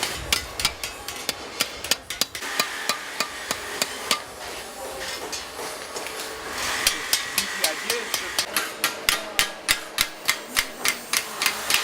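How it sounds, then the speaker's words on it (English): Metal being expanded by hammering, with hardwood used for splitting, during sculpture work: a long run of sharp, close hammer strikes, irregular at first, then settling into a steady, evenly spaced rhythm near the end. "So we have to expand this metal with hammer and splitting with hardwood."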